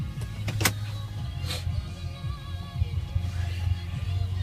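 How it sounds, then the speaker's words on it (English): Electric motor whine of power windows moving in a 2008 Chevrolet Silverado 1500 extended cab, a steady low hum running for a few seconds with a couple of sharp clicks, close inside the cab. "power windows."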